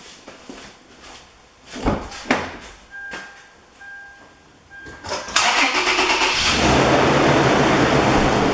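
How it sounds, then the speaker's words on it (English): A car engine cranks in short bursts, then catches and settles into a steady idle after a fresh oil change, with a few clunks and mechanical knocks before it fires. "Now it's safe and clear to start up the vehicle and let it run for 30 seconds to a minute"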